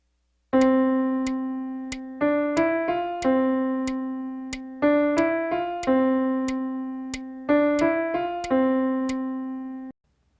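A single piano-like note is held for two and a half beats as a half note tied to an eighth, repeated several times between short melodic phrases, clean and close with no voices.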